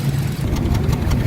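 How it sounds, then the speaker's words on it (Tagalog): A Hyundai Accent gas engine running rough with a misfire, a steady loud low rumble and exhaust drone with uneven pulsing throughout, close and continuous, with no talking. "So malakas yung nginig tsaka malakas yung tunog ng tambot."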